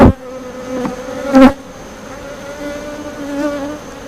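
Honeybees buzz steadily around an open hive during an early July inspection, a close, continuous hum with a few louder fly-by bursts and clicks near the start.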